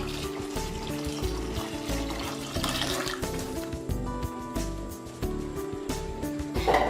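Hot water pours into a pot of rice for beef tehari, a steady watery rush running under background music for about seven seconds.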